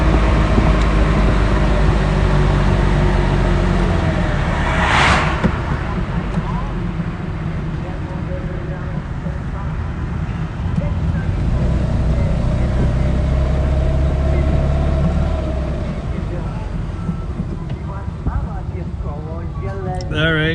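A 1987 FIAT 126p small car engine droning and revving on a crazy ride, loud and close with a steady rumbling hum and shifting pitch, with occasional brief talk over it.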